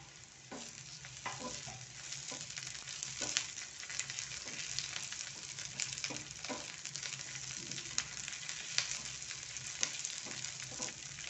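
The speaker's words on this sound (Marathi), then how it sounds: "कांदा छान आपला खरपूस भाजला गेलेला आहे तर त्यातच आपण लसूण भाजूया" Seven or eight garlic cloves frying in a pan with browned onion for Kolhapuri misal, a quiet continuous sizzle broken by repeated scraping stirs and light clicks of a spoon.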